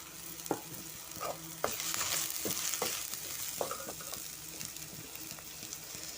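Hot oil sizzles steadily as Malvani masala, asafoetida and turmeric hit the pan, with a few sharp scrapes and clinks of a spoon stirring.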